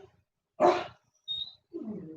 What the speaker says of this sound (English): I don't know what this dog barking at.